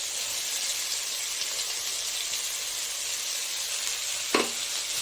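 Green peas drop into hot oil seasoned with asafoetida in a kadai, setting off a steady, close sizzle, with a single brief clank of a utensil near the end.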